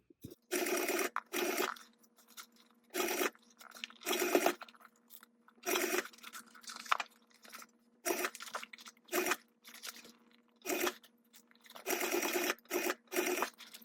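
Sewing machine stitching through the thick base of a mini backpack, repeated bursts of rapid mechanical whirring separated by short pauses, close and clear with a faint steady motor hum.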